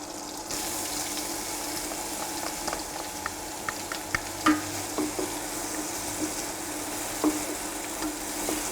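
Finely chopped onion frying in a hot pan, a steady close sizzle that starts abruptly and carries on throughout, with a few light clicks and stirring knocks and no talking.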